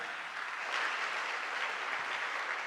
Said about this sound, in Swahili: Pigeni makofi yanayoeleweka.